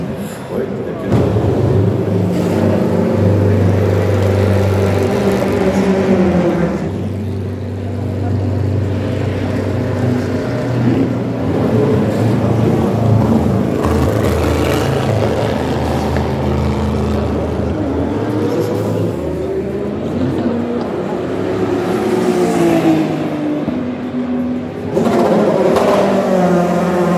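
Race car number 5 pulling away during free practice at the 2025 Le Mans 24 Hours: a steady engine drone rising and falling, moderately loud, running continuously beneath ongoing commentary.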